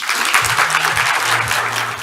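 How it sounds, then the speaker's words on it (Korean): Audience applause welcoming a KT team leader to the stage at an AWS tech event, a steady wash of many hands clapping throughout, fairly loud and close. "큰 박수로 맞이해 주시기 바랍니다."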